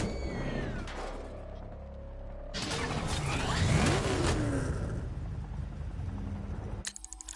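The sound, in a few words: car driving away from video game Batman Arkham Knight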